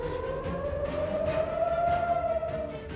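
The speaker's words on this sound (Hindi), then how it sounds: "पूरे क्षेत्र में सिर्फ सुनाई दे रही थी सायरन की आवाजें" Air raid sirens in Israel wail continuously with a steady rising and falling tone, loud and sustained throughout, with no voices.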